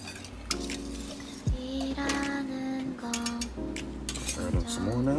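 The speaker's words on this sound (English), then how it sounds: "as soon as you get it in there, it's good to stir it, because if you don't, then it's going to have lumps" Cream of crab soup stirred in a pot, a spoon scraping and clinking against the metal in steady strokes, close and moderately loud, with a low background hum.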